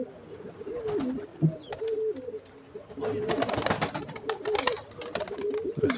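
Pigeons coo in low repeated phrases near the loft while a young grey pigeon takes its first flight, with brief wing flutters and a burst of flapping midway.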